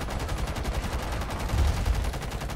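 Rapid automatic gunfire in Rainbow Six Siege, a dense unbroken stream of shots, loud and close, with a heavier burst near the end and no talk.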